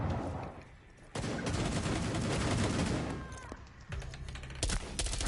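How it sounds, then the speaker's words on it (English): Repeated shotgun blasts and bursts of gunfire in a Rainbow Six Siege match, loud and dense, with brief lulls between volleys and game effects mixed in. "That sounds like a Pinka shotgun"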